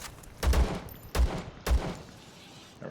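Three loud gunshots ring out in the Zero Sievert video game, fired at ghouls with irregular spacing, each a sharp booming crack with a short decay.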